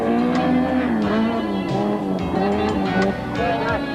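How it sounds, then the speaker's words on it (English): Rally cars on a forest stage, loud revving engines roaring and rising in pitch through repeated gear changes, close and continuous under a narrator's voice. "The stillness broken only by the roar of the rally cars."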